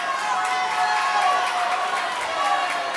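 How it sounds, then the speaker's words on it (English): Crowd at a high school swim championship race roaring down the final stretch, a loud, continuous wash of cheering and shouting with an announcer talking over it. "As the crowd gets loud down the stretch"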